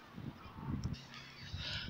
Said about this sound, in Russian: Вот такие вот уточки тут.